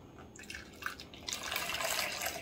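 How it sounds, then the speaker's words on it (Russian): Freshly boiled water from a kettle pours into a container for a herring marinade, a steady splashing stream that grows fuller and louder midway, close and alone without talk. "Наливаю буквально 150 миллилитров."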